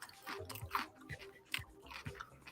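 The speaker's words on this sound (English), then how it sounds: "Damn, those lumpia are crunchy." Close, crisp crunching of fried lumpia being bitten and chewed, several sharp crunches in quick succession with soft wet mouth sounds between, no talking.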